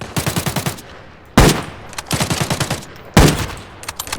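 Rapid bursts of automatic gunfire from the video game Arena Breakout: Infinite crackle in quick rhythmic volleys, broken by two louder sharp blasts, fairly close and with nobody speaking.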